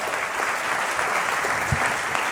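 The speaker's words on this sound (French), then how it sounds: "Le tout avec Charles Deschamps qu'on peut applaudir." Studio audience applauding a comedian on a Quebec television comedy show, a steady, dense wash of many hands clapping that holds evenly throughout at moderate level.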